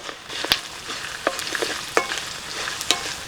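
Dry red chillies, fenugreek seeds, a pinch of turmeric and curry leaves being stirred in a frying pan, with steady crackling sizzle and several sharp spoon scrapes against the pan, close and alone.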